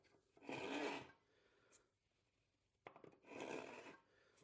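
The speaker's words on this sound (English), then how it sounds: "Sawing here is pretty minimal" Two short bursts of a hand saw rasping through wood while cutting drawer dovetails, each a few strokes long, separated by quiet pauses with faint knocks.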